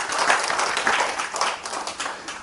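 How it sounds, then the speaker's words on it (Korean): An audience at a Korean lecture on the Tao Te Ching bursts into applause, a steady patter of many hands clapping at close range for a couple of seconds. "박수 한번 칩시다."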